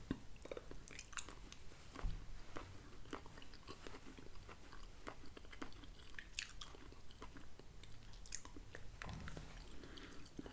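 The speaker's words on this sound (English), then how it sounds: "The turkey, there's nothing tough on it. It's easy to chew." Close, quiet chewing of a Hungry-Man roasted carved white meat turkey dinner, soft wet mastication with small clicks and squishes repeating steadily over several seconds, no talking.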